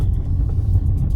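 An Opel Mokka GS Hybrid on the move gives a brief, loud, low road rumble heard from inside the car, a steady deep drone with no voices.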